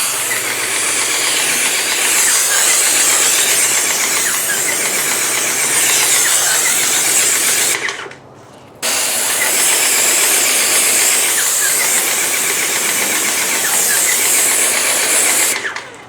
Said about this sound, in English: Now I'm going to take this little paint sprayer.